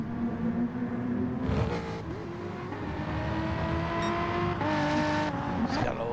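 GT4 race cars lapping Brands Hatch in a racing video game: steady engine drone with rising revs and gear shifts as cars pass close by, constant and fairly loud, with a commentator talking over it.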